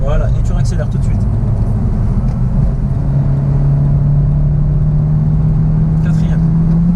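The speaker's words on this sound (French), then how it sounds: "Et là, petit freinage. Voilà, et tu réaccélères tout de suite." A Honda Civic on the Nürburgring track, its engine droning steadily and rising in pitch as it accelerates, loud and close from inside the car, with a brief voice early on.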